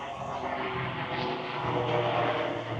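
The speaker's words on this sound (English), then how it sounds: "look at this helicopter" A helicopter drones overhead on an extremely windy day, a steady loud engine and rotor roar that swells slightly toward the end, with no talk.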